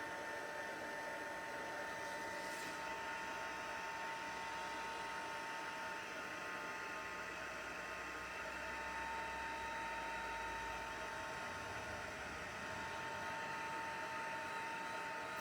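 A heat tool blows in a constant, even whoosh from start to finish during card making, steady in level, with no voices.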